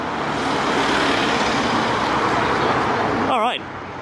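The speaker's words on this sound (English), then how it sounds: "Oh, bus." A bus passes on a street in Hayle with a broad, loud rush of engine and road noise that holds steady, then drops away; someone speaks briefly near the end.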